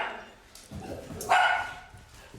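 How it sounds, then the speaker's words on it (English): Dogs bark in short, sharp yaps and yips, with a louder bark near the middle, amid a noisy event crowd; a brief spoken word is also heard. "Dogs."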